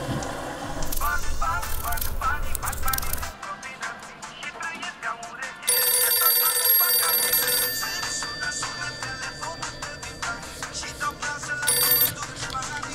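A telephone rings repeatedly on the line after a number is dialed to ask about an apartment for sale, loud and close, with electronic ring bursts and gaps and no one talking over it.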